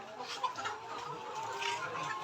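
Laying hens from a layer poultry farm clucking and fussing as they are packed into crates for retail delivery, a steady busy chatter of birds close by with faint voices mixed in.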